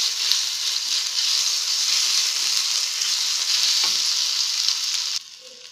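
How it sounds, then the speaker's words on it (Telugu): Mustard seeds, cumin and ginger garlic paste fry in a hot pan, a loud steady close sizzle that cuts off abruptly near the end, leaving quiet. "ఆవాలు, జీలకర్ర, కాస్త అల్లం వెల్లుల్లి పేస్ట్ వేసి కాసేపు వేయించాలి"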